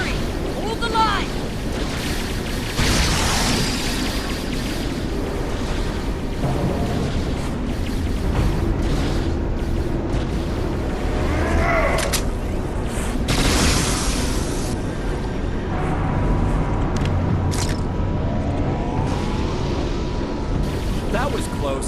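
Weapons fire and heavy explosions in the space game Star Trek Online on PS5, a dense, loud barrage of booming blasts and crackling bursts rolling on continuously with voices shouting over the combat.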